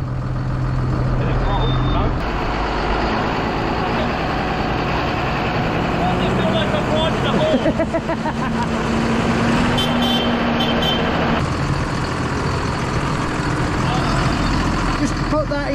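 Truck with a drop neck trailer pulling away slowly from a standstill, its low engine rumble and idle steady throughout while people talk over it.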